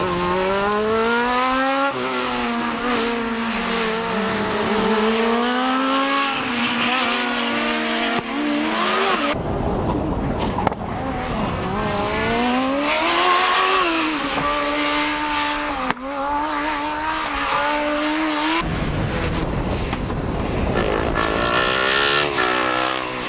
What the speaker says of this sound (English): Time to watch and listen as the Formula SAE cars race on in the Enduro.